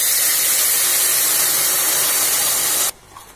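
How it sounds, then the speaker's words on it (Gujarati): Hot milk poured into roasted semolina in a pan for suji halwa, giving a loud steady hiss and sizzle for about three seconds, then cutting off abruptly to quiet. "હવે જે આપણે ગરમ કરેલું દૂધ છે એ એડ કરવાનું છે."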